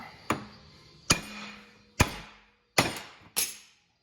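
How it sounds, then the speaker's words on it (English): Five sharp metallic hammer blows at an uneven pace, driving a part out during a 6.0 Powerstroke front-end teardown, each ringing briefly before fading, close by with no talking. "We'll hammer this one out."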